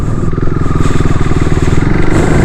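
A KTM Duke or RC 390 motorcycle engine runs loud and close, a rapid pulsing thump that rises slightly in pitch as the throttle is blipped, with no voices.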